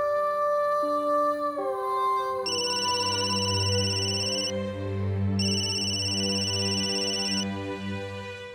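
A mobile phone ringtone plays loud and close, a bright electronic melody of stepped, sustained tones that repeats with no voices.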